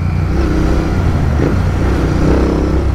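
A Royal Enfield Interceptor 650 Tracker motorcycle with a stock engine and tuned ECU, its steady, loud exhaust drone rising slightly in a brief rev toward the end, heard close and continuous with no talk.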